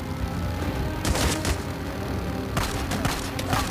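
Bursts of rapid gunfire in the video game Days Gone crackle in two clusters over a low rumbling backdrop, sharp repeated shots against continuous background noise.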